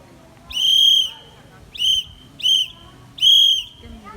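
A whistle blown in a long, short, short, long pattern spelling Morse X, shrill and close, with short gaps between blasts.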